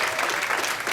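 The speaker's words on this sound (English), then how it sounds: "that would be your cue to give a huge round of fake but joyous applause" Joyous audience applause at a conference opening for a workshop, a dense, loud wash of clapping from a large crowd over a single second.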